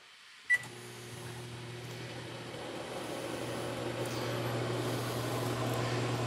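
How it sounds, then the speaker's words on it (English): A microwave oven powered by a portable power station starts with a short click, then a steady electrical hum that builds slightly and holds, faint and alone with no talk. "let's see if we can kick on the microwave as well"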